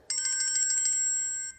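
A French school's electronic bell rings at the start of morning classes, one sustained bright tone that starts abruptly, warbles at first, then holds steady for over a second before stopping.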